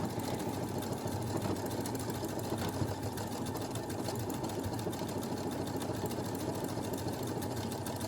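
A Brother SE1900 sewing machine stitches decorative letters on its sewing side, a steady, fast, even mechanical whirr and rattle that runs close and continuous without pause, with no voices.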